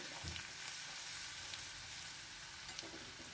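Grated garlic sizzles steadily in hot Dalda with mustard seeds, dried chillies and spices, a close, even frying hiss throughout with a faint stir or two.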